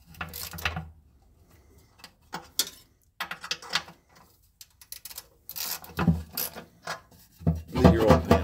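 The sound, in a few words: tightening Jeep Commander oil pan bolts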